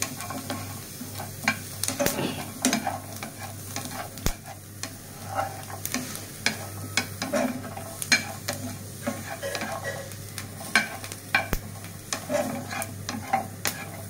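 Green chilies, onion and garlic dry-roasted in a pan with no oil, with a steady scrape of stirring and irregular sharp clicks of utensil against metal, close and moderately loud, without voices.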